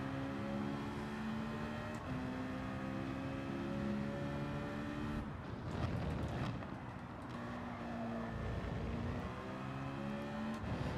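Race car engines in Gran Turismo 7 droning steadily, with tonal revs rising and falling and a rougher roaring passage midway, continuous and moderately loud without talk.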